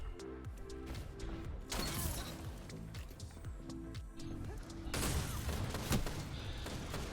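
Auto rifle fire in the video game Destiny 2 on a tiny multiplayer map comes as repeated rapid bursts with steady rhythmic pulses, mixed with game effects, loud and near, with no talking.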